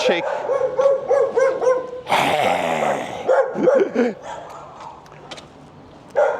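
Street dog in Asuncion, Paraguay's Recoleta neighborhood barking close by in a quick series of loud yaps and growly barks, interrupted by a burst of noise, with someone talking in between.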